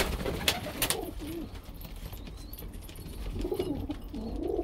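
Pigeons kept by a fancier on a rooftop, high flyers, cooing in soft low repeated calls over steady outdoor background noise, close by, with a few sharper clicks early on and no talking.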